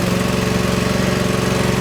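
A Power Trac compact tractor engine idles loudly and close by, a steady throbbing drone with a rapid, even pulse and no break.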